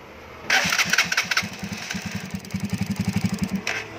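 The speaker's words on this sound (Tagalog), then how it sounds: "Subukan natin i-start kung andar ba." A motorcycle engine with a newly refitted carburetor cranks briefly, then catches and settles into a close, loud, rhythmic putter that grows steadier toward the end.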